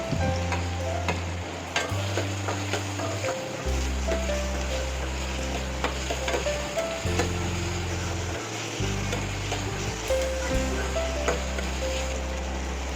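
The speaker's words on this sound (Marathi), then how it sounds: "त्यानंतर यामध्ये बारीक चिरलेला कांदा घालून हलका सोनेरी रंग होईपर्यंत तेलावर व्यवस्थित परतवून घ्यायचा आहे।" Finely chopped onion sautéing in oil in a pan, a steady soft sizzle with occasional stirring scrapes, heard over low background music.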